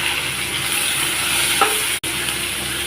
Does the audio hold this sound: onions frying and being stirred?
yes